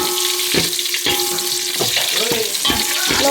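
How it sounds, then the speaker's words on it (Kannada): Onion, curry leaves and mustard seeds frying loudly in a pan in a home kitchen, a constant bright sizzle cut by repeated spoon scrapes about every half second. "ಈರುಳ್ಳಿ, ಕರಿಬೇವು ಎಲ್ಲ ಸಾಸಿವೆ ಎಲ್ಲ ಫ್ರೈ ಆದಮೇಲೆ ನುಗ್ಗೆಕಾಯಿ ಹಾಕಬೇಕು. ಫ್ರೈ ಆಗ್ತಾಯಿದೆ ಇವಾಗ"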